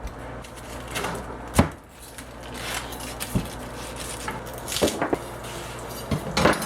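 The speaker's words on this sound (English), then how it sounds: "We're going to use the pineapple here, and first we have to cut it up." A knife cuts up a pineapple on a kitchen board, with scattered knocks, thuds and scraping chops at an uneven pace close by and no talking over them.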